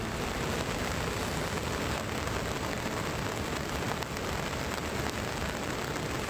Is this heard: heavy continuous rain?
yes